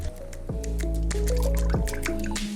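Water drains and drips out of a 1979 Yamaha IT175 motorcycle that had water in place of oil, in a loud, close gurgling trickle with wet splashes and droplets for the whole stretch.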